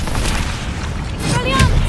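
A fire spell cast in the Hogwarts Legacy video game: a steady whooshing, crackling blast of game effects that swells toward the end, with no voices.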